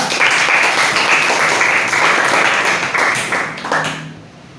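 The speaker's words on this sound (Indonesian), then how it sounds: "berikan tepuk tangan yang meriah untuk Angela Renata" A crowd claps loudly and steadily for a few seconds, then the applause fades out toward the end.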